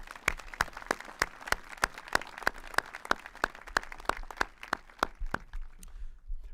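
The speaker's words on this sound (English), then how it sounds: "One more round of applause to our graduates." At a high school graduation ceremony, the crowd claps in an even rhythm of distinct strong claps over a softer bed of scattered clapping, fading out near the close.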